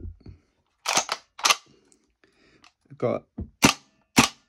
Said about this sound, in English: So you can see there's nothing in the mag, so it will just dry fire.